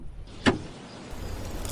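A car door opening as someone climbs out after braking with a punctured front tyre, a single sharp clunk followed by low engine and outdoor rumble.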